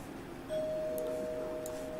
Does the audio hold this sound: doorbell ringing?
yes